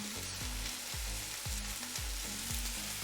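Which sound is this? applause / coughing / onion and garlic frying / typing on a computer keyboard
onion and garlic frying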